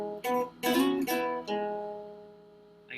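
An electric guitar plays a short R&B exercise bar: a few plucked notes with slides between them, ending on a long sustained note that rings out and fades, heard alone and close.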